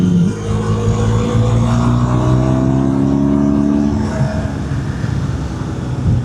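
Car engine accelerating on a road with cyclists nearby, a loud continuous close-up roar whose pitch climbs steadily, then levels off and fades slightly, with no talk over it.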